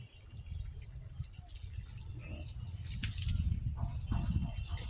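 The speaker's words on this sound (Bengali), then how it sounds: "এই যে দেখেন, আমার ছোট্ট ছেলেটা গাছে পানি দিচ্ছে।" A small child waters rooftop garden plants, giving a continuous soft splash and trickle of water with occasional drips, gently building toward the end, with no clear talk over it.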